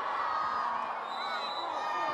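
A women's field hockey stadium crowd in Argentina at a Champions Trophy semi-final, cheering with a steady, dense roar and scattered whoops that hold throughout, with a commentator talking over it.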